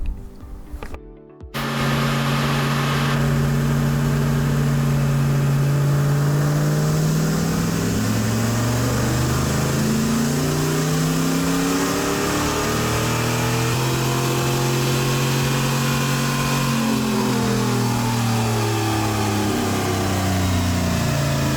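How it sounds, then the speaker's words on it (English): A car engine with a tuned camshaft pulls at wide open throttle on a dyno, loud and close, climbing in pitch through the revs, easing briefly, then climbing again. "Now it's time for the fun stuff, wide open throttle."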